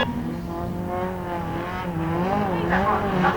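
Autograss race cars at St Neots, including a Concorde Essex machine and the 711 car, roar with sweeping, rising and falling engine notes throughout, while a commentator talks over the racing.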